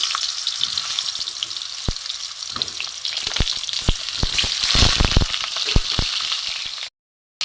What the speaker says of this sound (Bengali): বন্ধুরা, কড়াই বসিয়ে দিয়েছি, সর্ষে তেল দিয়ে দিয়েছি। দিয়ে আমি এই পটলগুলো আগে ভেজে নেব।